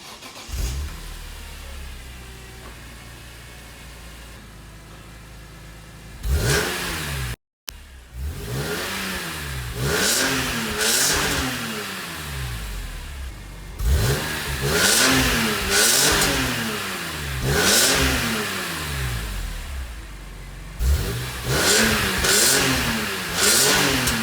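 A BMW E46 M3 revs hard several times through its exhaust in bursts, each roar rising then falling back to a rumbling idle, loud and close with no talking.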